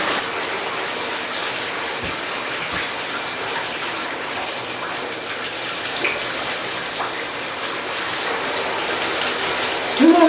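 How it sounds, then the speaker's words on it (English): Shower water rinses hair dye out, a steady hiss of spray pattering across the whole stretch, fairly loud and close, with no talk over it. "And into the shower I go!"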